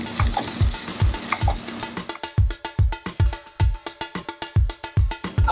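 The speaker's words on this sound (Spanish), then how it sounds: "Y ahora revolvemos." Vegetables seasoned with oregano and Worcestershire sauce being stirred as they fry in a pan, with steady rhythmic scraping strokes about twice a second over a sizzle, close and clear.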